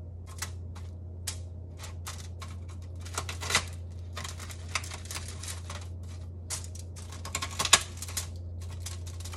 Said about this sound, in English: Get my little knife out and cut the tails off